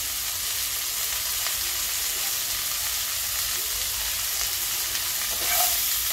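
Vegetables seasoned with turmeric and salt fry in a pan with a constant close sizzle, with faint stirring scrapes now and then and a slightly louder crackle near the end.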